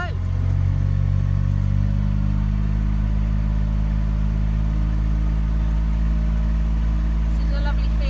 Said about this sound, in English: I'd take you for a little bit of a drive around the farm